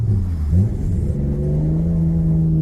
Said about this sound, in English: Let's drive fast, because here we can drive a little faster, right?